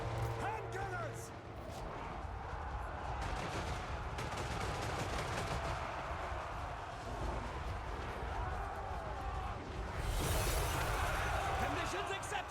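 Gunpowder volleys from hand gunners in a Total War Warhammer III battle, rattling crackles of musket fire running under a thick mix of battle noise and shouted voices, with a heavier burst near the end.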